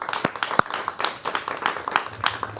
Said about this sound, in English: So another big round of applause for them